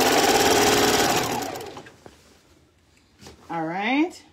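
A sewing machine running a quarter-inch seam over elastic, a loud close whirring burst that runs down and stops, followed by quiet handling and a voice speaking.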